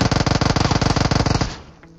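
Rapid automatic gunfire in the video game PUBG Mobile, a loud, close burst of evenly spaced shots lasting about a second and a half before cutting off into a brief fading tail.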